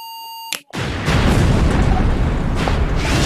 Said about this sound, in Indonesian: Oh my god, meledak kereta apinya.